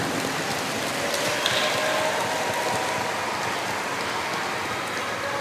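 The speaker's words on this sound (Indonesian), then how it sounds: "yang pertama, alhamdulillah hujan." Steady, dense rain pours down outdoors during a religious gathering in Indonesia, a continuous loud hiss with no breaks and no voices throughout.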